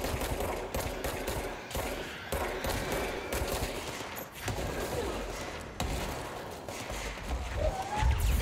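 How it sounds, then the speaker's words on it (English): Enemies firing at the player in the video game Control: sustained, loud bursts of automatic gunfire with brief gaps between volleys, plus some faint mechanical clatter. "Alright, you guys wanna keep shooting at me?"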